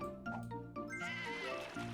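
Cartoon sheep in the puzzle video game Divide by Sheep bleat in a steady, overlapping chorus over game music, the quavering cries continuing throughout.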